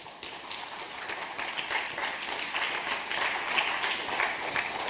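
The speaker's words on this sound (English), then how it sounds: "How about a round of applause for Mr." An audience at a primary school elocution competition claps in a sustained, fairly dense round of applause that carries steadily from start to end without talk over it.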